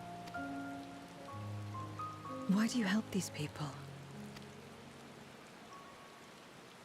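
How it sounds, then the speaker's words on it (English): Rain falls in a cold, snowy area of the video game Final Fantasy XIV, a steady soft hiss throughout beneath a character's spoken line and gentle game music. "but it's raining"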